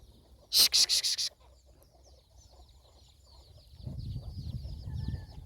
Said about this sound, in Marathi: कोंबड्या नुसत्या मारामारी करतात